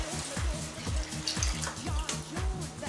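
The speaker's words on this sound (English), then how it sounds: "now as with the white rice, you're gonna add the water" Water poured into a pot of rice, a soft steady splashing that runs the whole time beneath a rhythmic background beat.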